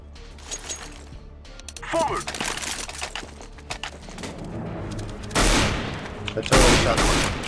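Gunfire in the video game CS:GO: scattered shots crack through the first half, then two loud bursts land near the end, with background voices murmuring under the action.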